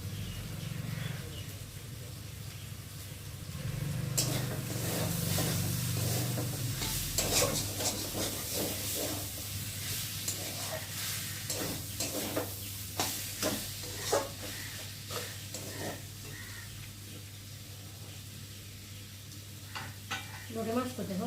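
Potatoes frying with spices in a pan make a continuous sizzle with frequent scraping and stirring knocks, close and fairly loud, over a low steady hum.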